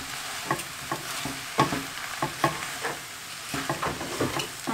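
Pieces of chicken, mushroom and flour are pushed around a pan with a utensil, giving a run of soft, irregular scraping strokes over a quiet sizzle, close by, with no talking.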